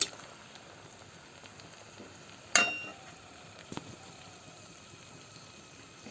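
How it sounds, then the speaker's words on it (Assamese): Dried black pepper frying in a pan for an Assamese dish gives a soft, steady sizzling hiss, with a couple of brief clinks partway through and no talking. "অকণমান সময় ভাজি"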